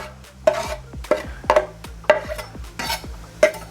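Chopped celery, onion and carrot stirred in a pan, the spoon scraping in about six distinct, evenly spaced strokes, close and clear with no talk.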